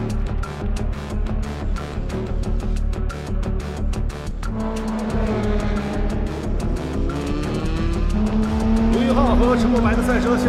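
Race car engine on the track during the final lap, a loud sustained roar with a rising, shifting pitch and tire noise, under a continuous commentator's voice.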